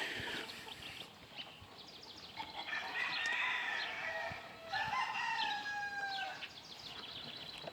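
Polish roosters in a backyard pen crow repeatedly, with long bright calls overlapping one another and softer clucks and chirps between them, fairly close and steady across the whole stretch.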